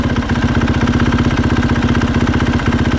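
A KTM 450SXF dirt bike engine idles with the clutch pulled in, a loud close rhythmic thumping with fast regular pulses and a faint tapping knock, no voices over it.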